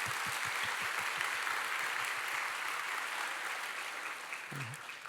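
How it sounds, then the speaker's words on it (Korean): Steady applause fills a church youth and college service hall, a dense, even wash of clapping from the congregation that holds at one level throughout, with a brief low voice near the end. "우리 격려하면서 한번 박수하면 어떨까요?"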